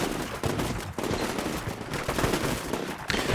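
Squad rifle fire in the video game Combat Mission Shock Force 2 crackles in a dense, continuous rattle of overlapping shots and thuds in an urban firefight, loud and unbroken for a few seconds.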